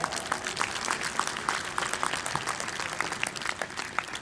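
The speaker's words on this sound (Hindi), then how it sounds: "इनके लिए जोरदार तालियां एक बार" Audience at an International Yoga Day event claps for two yoga teachers, with somewhat sparse, distinct hand claps over a steady background, moderately faint.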